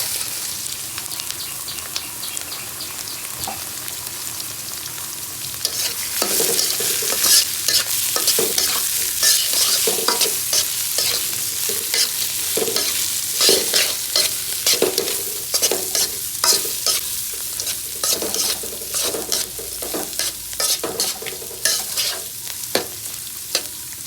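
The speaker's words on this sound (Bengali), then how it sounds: "এখন আমি মুগ ডালটি ভেজে নেব।" Mung dal frying in hot oil with bay leaf and dried red chillies, a soft sizzle broken by a long run of rhythmic scraping stirs from a spatula against the pan, close and steady.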